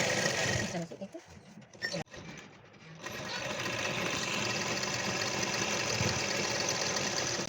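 A sewing machine stitches elastic around the full circle of a can-can skirt. Its motor runs in short, uneven bursts for the first three seconds, then settles into a steady, continuous whirring hum close by.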